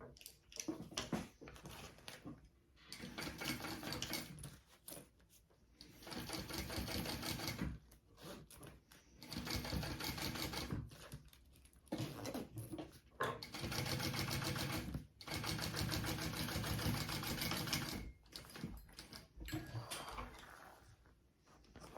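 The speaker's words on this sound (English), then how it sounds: "I am top stitching along the top exterior." A sewing machine top stitching along the exterior of a phone sling bag, running in several rapid bursts of a few seconds each separated by brief pauses, close and clear with no speech.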